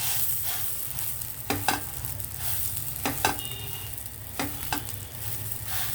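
Chana toast roasts in ghee in a pan with a continuous close sizzle, punctuated by a few sharp spatula scrapes and taps at regular intervals.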